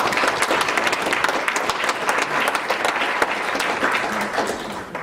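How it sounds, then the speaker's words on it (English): A crowd at a Knights of Columbus gathering in Mount Kisco, New York, breaks into sustained applause for the county executive, many hands clapping at a fairly constant, lively level throughout. "Deserves a round of applause."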